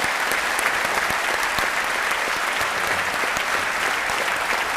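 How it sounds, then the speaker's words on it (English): Steady, loud applause from an audience at a live talk event, continuous clapping sustained evenly throughout. "Let's please have a big rousing round of applause for our guests"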